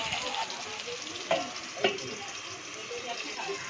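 Tomatoes for a plain potato curry simmer in a covered pan, giving a steady soft sizzle with a couple of faint clinks, close and fairly quiet.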